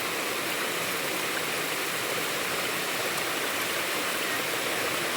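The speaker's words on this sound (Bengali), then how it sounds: "বৃষ্টি হচ্ছে, কি সুন্দর বৃষ্টি।" Steady rain pours outdoors as a continuous, even hiss of water that holds constant throughout with no voices.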